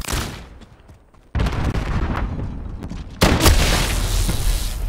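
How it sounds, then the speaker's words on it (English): Heavy, loud blasts from a grenade in the video game Modern Warfare: two sudden booms each launch into a sustained roar of dense gunfire and rumbling explosions, with no talking. "Grenade out!"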